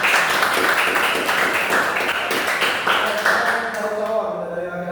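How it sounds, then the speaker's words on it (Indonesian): Classroom applause for a student named Nadia, a burst of many hands clapping steadily for several seconds, then fading as voices rise over it. "tepuk tangan buat Nadia."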